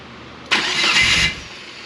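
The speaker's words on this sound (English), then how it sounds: "we're gonna crank this bad guy over and see if we can get it to pop off" An Eagle Talon road race car engine turns over and fires, with a sudden loud burst of broadband engine noise that holds for under a second before easing back.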